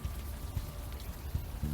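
Steady rain falling in the video game Unavowed, a continuous soft wash with faint scattered drops and occasional low thumps, heard alone without speech.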